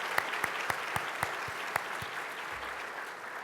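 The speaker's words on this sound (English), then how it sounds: "Please join me in giving them all a well-deserved round of applause." Audience applause for airport staff at a State of the Airports address, a steady wash of clapping with a few sharper individual claps standing out near the start, tapering slightly toward the end.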